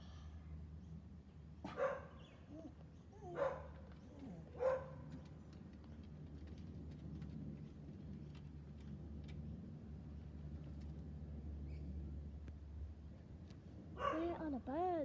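Dogs bark in a few sharp, separate bursts at a distance, with a final cluster of barks near the end, over low background hum and a person talking.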